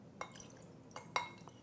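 A wet vodka martini with vermouth stirred in a pointed glass, giving a few light, bright clinks of a spoon against glass, spaced apart and close up.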